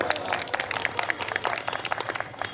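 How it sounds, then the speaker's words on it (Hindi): Audience clapping at a Hindi kavi sammelan poetry gathering in Narmadapuram, a dense, steady patter of many hands at moderate distance, lasting a few seconds without any voices over it. "एक बार ये आंसू कवि के नाम पर जरा ताली बजाना"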